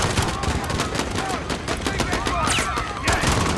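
Dense automatic gunfire and scattered shots crackle continuously through a chaotic firefight in the Modern Warfare video game, with bursts overlapping loud and close, and voices faintly heard amid the shooting.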